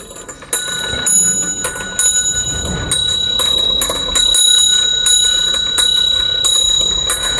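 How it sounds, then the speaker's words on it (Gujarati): Electric bell from a classroom demonstration model, its copper coil converted into a motor, rings loudly and continuously with a bright metallic clatter and a steady high tone, alone without talk. "આ વિદ્યુત ઘંટડીનો અવાજ આપણને સંભળાય છે"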